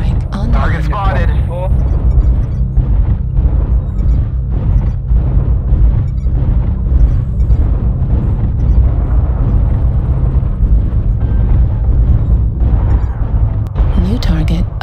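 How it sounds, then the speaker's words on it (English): Booming artillery explosions from the MechWarrior Online battle game rumble continuously through the scene, with a synthetic voice making short announcements over the steady low-end thunder. "Artillery strike on target."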